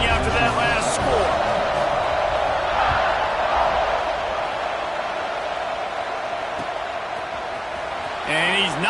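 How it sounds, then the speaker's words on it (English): A stadium crowd keeps up a steady, dense roar at a Texas versus Alabama college football game, a broad buzzing wash that holds throughout. A commentator talks over it. "this crowd is buzzing after that last score"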